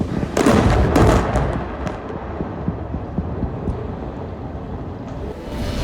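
Loud booms from Israeli airstrikes in South Lebanon are heard as two heavy blasts near the start. A long low rumble with scattered cracks follows and fades slowly.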